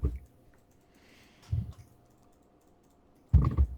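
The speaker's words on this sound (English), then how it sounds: "I've got a mechanical keyboard. Goes click, click, click" Mechanical keyboard keys clicking in short bursts, a quick cluster near the start, another around the middle and a louder flurry at the end, close and fairly quiet in a still room with no talking.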